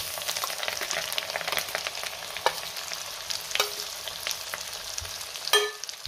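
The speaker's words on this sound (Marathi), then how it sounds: "वाटण आपल्याला तेल सुटेपर्यंत चांगलं परतून घ्यायचंय।" Onion-garlic masala paste sautéing in oil for misal, a steady close sizzle broken by occasional sharp scrapes and clinks of a spatula stirring the pan.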